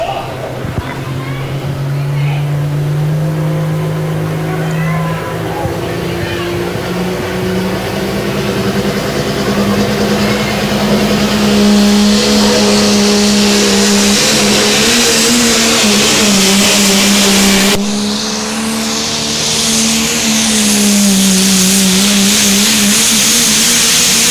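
Diesel pulling truck from Eagle, Wisconsin revving at an NTPA Grand National truck and tractor pull, a loud rising roar that holds and swells before a sudden change and renewed revving, with an announcer talking over it.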